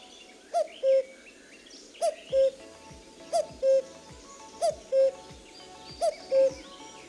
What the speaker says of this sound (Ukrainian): Зозуля літала, літала, свою пісню співала, співала, для дітей голосно кувала.